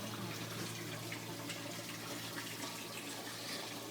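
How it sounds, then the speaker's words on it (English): Water in an outdoor aquaponics tank in Hawaii sloshes and splashes as waves are pushed through it, a steady soft liquid wash under a low constant hum, faint and close. "I'm going to put a little bit of wave in there."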